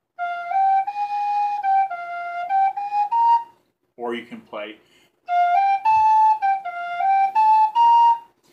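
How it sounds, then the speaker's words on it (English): Penny whistle playing clear, sustained melodic notes in two phrases, broken in the middle by a short stretch of a person talking. "So playing on the penny whistle"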